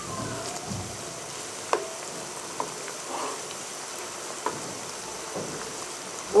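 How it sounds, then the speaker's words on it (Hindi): Potato seekh kebabs frying in a pan until golden: a steady, fairly quiet sizzle of hot oil, with a few light taps breaking through now and then. "बहुत ही प्यारा गोल्डन कलर आने तक हम इनको फ्राई करेंगे"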